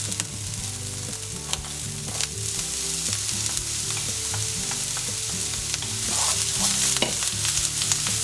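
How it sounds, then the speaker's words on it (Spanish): Garlic and ginger, then chopped onion, sauté in oil in a frying pan with a continuous hissing sizzle and occasional spatula clicks, over a steady low tonal hum in the background. "En una sartén ponemos aceite y rehogamos el ajo y el jengibre primero."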